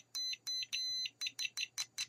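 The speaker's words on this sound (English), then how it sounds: "the probes together, it beeps." A multimeter on continuity mode gives a series of short beeps as its probes touch, three longer tones followed by five quick ones, high-pitched and clear over a quiet background.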